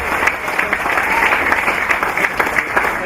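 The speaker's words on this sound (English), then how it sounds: "Round of applause there for Brooke." Steady clapping from a crowd at a rodeo awards presentation function, a sustained indoor round of applause with scattered louder claps and some voices mixed underneath.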